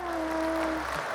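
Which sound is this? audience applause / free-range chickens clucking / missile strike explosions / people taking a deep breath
audience applause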